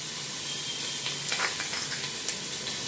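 Onions frying in a hot pan for chicken fried rice, a steady close sizzle and hiss with a few soft stirring scrapes, no voices.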